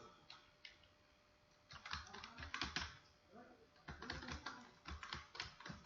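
Keys clatter on a computer keyboard as product names are typed into an Excel spreadsheet, quick irregular bursts of close, soft clicks with a short pause near the start and no talking.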